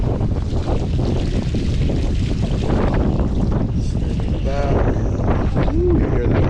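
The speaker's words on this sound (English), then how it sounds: "Ooh, you hear that wind?" Strong tropical storm wind roars and buffets the microphone at a boat dock, a loud, constant rushing that masks all other sound throughout, with faint voice-like tones in it.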